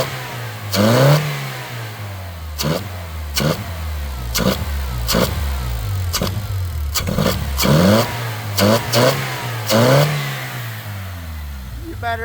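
A car engine running after a MAP sensor replacement, revved repeatedly in sharp blips that rise and fall back to a steady idle, loud and close with no talk over it.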